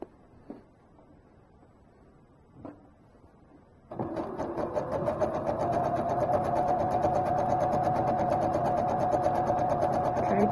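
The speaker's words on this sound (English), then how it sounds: "And now we're just going to stitch this down." A sewing machine runs steadily while stitching down a tear in clothing, starting after a few faint handling taps and then humming continuously with a rapid, even needle rhythm, close and moderately loud.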